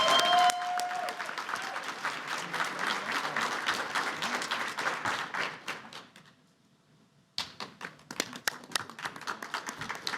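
Audience applauds for a youth award recipient, a bright spatter of clapping that fades to near silence, then resumes in a sparser, more uneven burst of claps.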